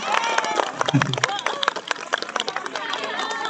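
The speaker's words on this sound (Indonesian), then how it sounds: "Tepuk tangan buat kalian semua" A crowd of schoolchildren and adults claps at a school inspiration session, with brisk, uneven clapping mixed with chatter and a brief low thump.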